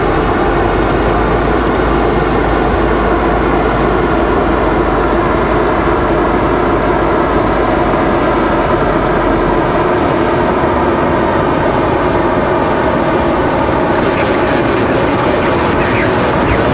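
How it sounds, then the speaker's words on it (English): An Embraer jet at Raleigh-Durham airport starts its engines with a loud, steady whine and rumble layered with sustained tonal hums, holding constant close by before a brief crackling shift near the end. "Little smoky startup for the Embraer."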